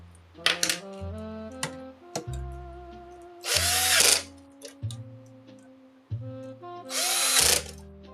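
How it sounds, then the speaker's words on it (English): A power drill drives the inner screws back into a vintage video game console during repair, with two whirring bursts separated by small clicks and a steady tonal hum, close and loud. "I need to put the inner screws back in it, don't I?"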